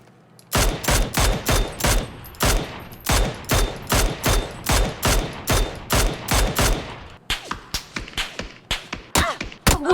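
Rapid video game gunfire fires in loud bursts of sharp repeated shots, steady at first and then more ragged, with no talk.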